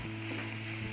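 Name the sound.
fish mixture frying in oil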